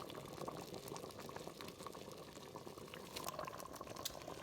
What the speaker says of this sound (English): you can see that there is boiling quite rapidly right now